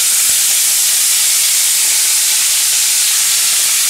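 Shrimp dropped into very hot butter in a pan hiss and sizzle loudly and steadily, a dense bright frying noise with no voices.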